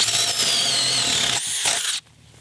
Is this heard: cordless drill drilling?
yes